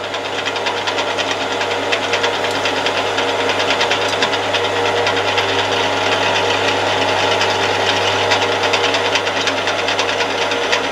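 A milling machine table being wound along by hand under a steady mechanical whir and low hum, with continuous rattling and clicking texture throughout at close range, no voices.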